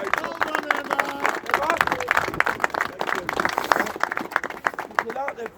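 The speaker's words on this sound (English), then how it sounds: "So I'd ask you to round of applause for the police liaison." A protest crowd outdoors claps for police liaison officers, scattered uneven clapping mixed with chatter and shouting voices, the hands sharp and close against a busy background of people talking.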